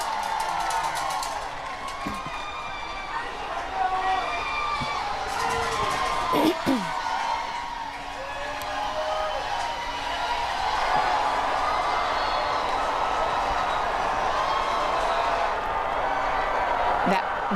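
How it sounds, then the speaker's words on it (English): A large crowd lining Gay Street cheers, whoops and shouts at a college baseball national championship parade, a continuous roar with scattered high yells and whistles, and a commentator talking over it. "the crowd is going wild"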